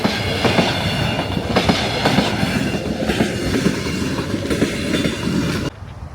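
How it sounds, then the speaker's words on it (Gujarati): A train passing a closed level crossing in Switzerland, loud continuous rumble with rhythmic wheel clatter and rail noise, close by, ending abruptly. "ફાટક બંધ છે, ટ્રેન આવી."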